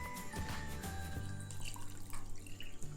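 Water pours into a bowl of Belgian waffle batter mix in a steady, soft trickle with light dripping and splashing, quiet and close, with no talking.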